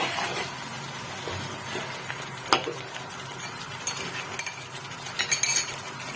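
Pointed gourds sizzle softly in spiced yogurt that has been cooked down until the oil separates, with a low steady frying hiss and occasional scrapes and clinks of a spoon against the pan.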